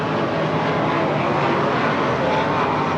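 A sprint car engine held at full throttle after a crash, giving a dense, loud, continuous roar without breaks throughout.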